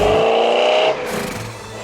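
Fox Body Mustang with T-tops off rolling down a street, its engine a loud steady drone that drops to a quieter, lower rumble partway through, no voices present.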